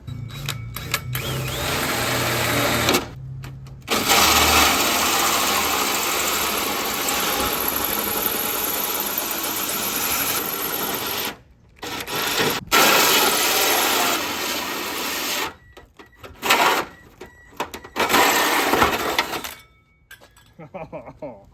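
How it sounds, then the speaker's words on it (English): A hole saw drills loudly, with long stretches of harsh, grinding whir broken by brief pauses and short bursts as the cutting stops and restarts. "So now we're gonna see if we can drill a hole in this puppy."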